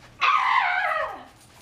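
A dog barks in one drawn-out, loud, close yelp-like howl lasting over a second before trailing off, heard alone.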